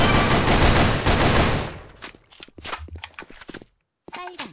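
Rapid automatic gunfire in the Sudden Attack shooter game roars loudly for about two seconds, then breaks into scattered shots and thuds before a short silence and a brief tail of game sound.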